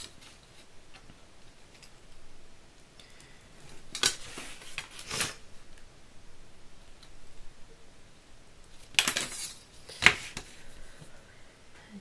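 Scissors cutting a protective cover for a screw-bound book, a few sharp snips in two clusters, close and crisp, against a quiet room with soft handling noises between.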